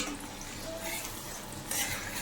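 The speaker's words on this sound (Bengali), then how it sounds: "আর এদিকে কড়াইতে দেখো একটু বাটার গরম করে তার ভিতরে একটু রসুন কুচি সোমবাসে দিয়ে দিয়েছি" Chopped garlic fries in hot butter in a wok, a soft, steady sizzle with a faint scrape of stirring near the end.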